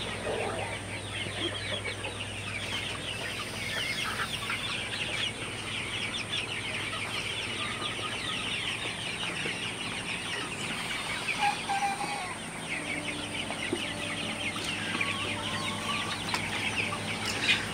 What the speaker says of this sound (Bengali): আপনারা দেখতে পাচ্ছেন মুরগিগুলা ফ্যানের সামনে দিয়ে বসে আছে এবং বাতাস খাইতেছে